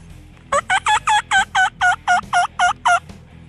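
Wild turkeys, young jakes, gobble close by in a rapid series of about eleven loud, evenly spaced calls, alone with no talking.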